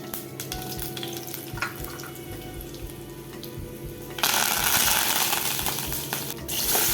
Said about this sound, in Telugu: ఆయిల్ కొద్దిగా హీట్ అయిన తర్వాత దాంట్లో ఇప్పుడు పోపు దినుసులు యాడ్ చేసుకుంటాం.